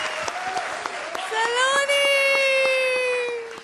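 A comedy show audience claps in a scattered patter of sharp hand claps, partly masked by a loud, high-pitched voice and a child's wail rising over the applause.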